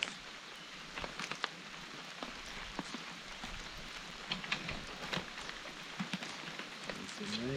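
Steady rain patters at a campsite beside a swampy lake, a dense hiss of fine drops with sharper ticks scattered throughout, faint and continuous.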